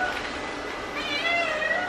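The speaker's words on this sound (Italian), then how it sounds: "c'era gatto Denver che urlava durante tutto il video" A cat wails loudly indoors, a drawn-out rising meow emerging over a constant background hum and continuing to the end.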